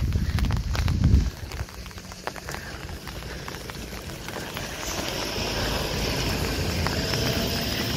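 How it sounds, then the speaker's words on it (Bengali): Rain falls steadily on the C-shaped Mallipo sea beach in Taean, Korea, a dense even hiss of drops that holds constant throughout, with a low rumbling thump near the start. "বৃষ্টিতে একটু অসুবিধা হচ্ছে ঠিকই"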